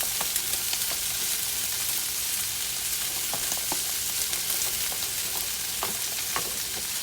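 Green onion and meat fry in hot oil for kimchi fried rice, giving a loud, dense, continuous sizzle with scattered crackles and pops and no speech.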